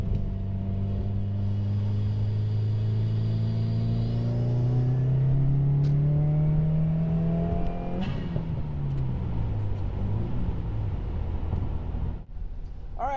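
Steady engine rumble from inside a moving car on a drive home after a storm, with rising and falling tones as it accelerates and shifts, continuous and close throughout.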